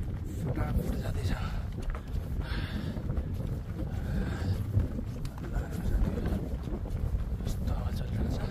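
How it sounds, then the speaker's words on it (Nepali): Wind blowing hard across a high mountain trail near a landslide area on the Tilicho Lake trek in Manang, Nepal, a steady low roar buffeting the microphone with footsteps faintly mixed in. "यस्तो हावा चलिरहेको छ हामी हिँड्दैछौँ"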